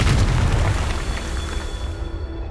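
A Confringo fire spell explodes in the Hogwarts Legacy game, a loud deep boom that opens at full force and rumbles away over a couple of seconds amid steady background game sound.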